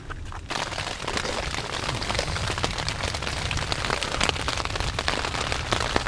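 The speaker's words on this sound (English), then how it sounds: "Well, it's raining. Hiding out in the tent." Steady patter of rain drumming on a tent in the backcountry of Myakka River State Park, Florida, dense and close, with louder individual drops popping through the constant hiss.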